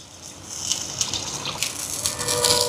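Tamarind water pouring in a steady gush into a fish curry simmering with coconut milk and tomato, close and continuous, swelling slightly toward the end.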